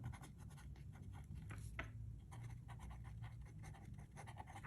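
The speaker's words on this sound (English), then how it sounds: "The scratch and feedback is there. Unusual for a Lamy." Lamy Safari fountain pen with an extra-fine nib writing on thin Tomoe River paper, a faint, close scratchy rasp in quick repeated strokes over low background rumble.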